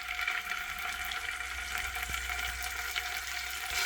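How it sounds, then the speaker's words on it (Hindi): Ginger and garlic frying in hot ghee in a pan over low flame, a steady close sizzle with fine crackle and an occasional soft tap, moderately loud and uninterrupted by speech. "जैसे ही घी गर्म होगा तो इसमें 3 टेबलस्पून अदरक और लहसुन डाल देंगे।"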